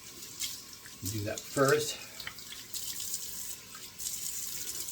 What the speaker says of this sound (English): I have not put 2 splashes of cold water on yet